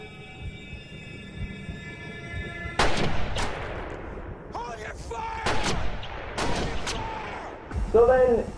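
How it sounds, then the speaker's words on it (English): Police gunfire in the 2009 horror film Halloween II comes as several loud, close sharp bangs in irregular bursts, mixed with other film sound and shouting voices. "even though the sheriff said to hold fire, Laurie is also shot down by the cops"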